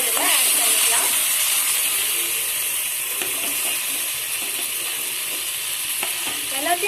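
Fried bread pieces stirred into a spicy chilli sauce mixture in a pan, giving a steady wet scraping and sizzle with a few sharper utensil clicks, close and fairly loud throughout.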